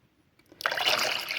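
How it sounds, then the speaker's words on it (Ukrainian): After a brief quiet moment, water starts pouring to wash hatching eggs, a close, bright splashing stream that continues steadily. "Добавляю воду."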